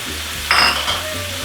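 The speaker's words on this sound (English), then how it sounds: "Stir that in there." Carrots being stirred into pork fried rice in a hot pan, with a steady close sizzle and a louder burst of frying and scraping in the middle, settling back to an even crackle.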